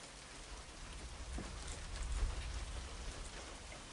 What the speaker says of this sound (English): Yep, there comes the rain.